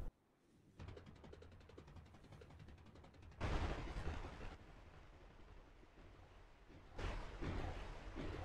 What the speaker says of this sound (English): the autocannons have a limited magazine. So it has to shoot in batches.